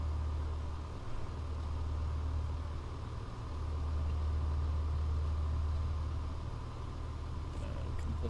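A Piper PA38 aircraft engine drones steadily from inside the cabin, a low continuous hum that swells briefly as RPM is raised to begin taxiing, with no talk over it.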